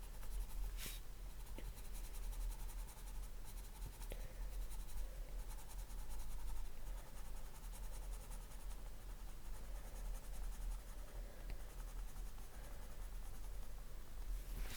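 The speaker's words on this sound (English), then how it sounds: "You hear me scratching away on the paper there?" Copic marker and Pablo pencil scratching steadily across paper during coloring, a faint continuous rasp with a few sharper strokes, close and alone with no talking.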